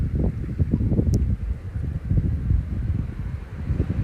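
Wind buffets the microphone by a lake in continuous low, rumbling gusts, loud and close, with no voices.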